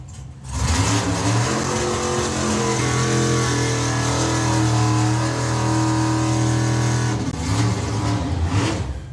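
Drag racing cars at the Springspeed Nationals launch down the track with a loud, sustained engine roar and steady pitch that fades briefly, then swells again near the end; no one talks.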